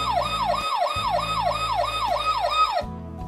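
A toy USA fire engine truck sounds its electronic siren: a loud, fast, repeating wail sweeping up and down over a low pulsing tone, stopping abruptly near the end with no talking.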